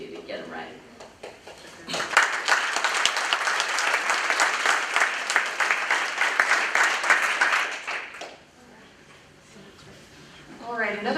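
An audience at a community meeting breaks into loud, sustained applause for the speakers, swelling after a couple of seconds, lasting about six seconds and then fading, with speech heard before and after.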